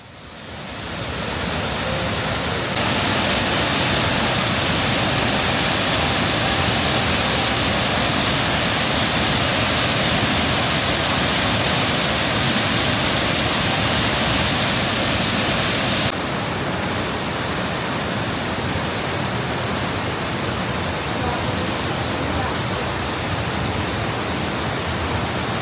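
The Marmore waterfall roars as a massive, unbroken wall of rushing water, loud and steady from start to finish with no other sounds standing out.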